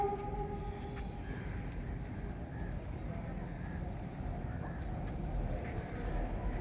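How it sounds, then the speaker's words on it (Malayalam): A distant train passes along a railway track near Aluva Manappuram, heard as a faint, steady low rumble that carries evenly throughout. "അകലെ റെയിൽ പാളത്തിൽ കൂടി തീവണ്ടി പോകുന്ന ശബ്ദം കേൾക്കാം"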